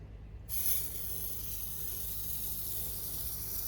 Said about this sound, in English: you just basically want to go back and forth until you spray the whole piece